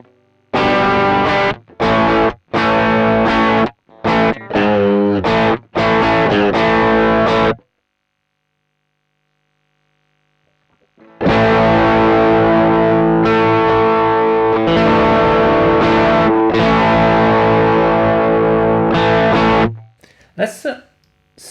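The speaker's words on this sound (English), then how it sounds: "the Nocaster pickup here is rather hot, and you can hear the pedal is already overdriving." An electric guitar with a hot Nocaster pickup runs through an Orange Getaway Driver overdrive pedal, giving loud distorted chords in choppy bursts, then a pause, then a longer sustained overdriven passage that ends abruptly.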